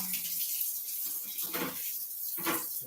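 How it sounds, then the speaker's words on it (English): Water running and splashing into a NutriBullet blender cup being rinsed at a kitchen sink, a soft steady hiss with two louder gushing bursts, near and fairly quiet. "I'm going to put a little water in my NutriBullet so it can start to clean"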